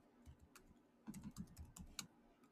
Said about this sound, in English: this time I'm going to try typing in the formula for you